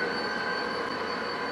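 Model train rolling along the UPSF joint line layout, a steady continuous running hum with high wheel squeal, close and even throughout.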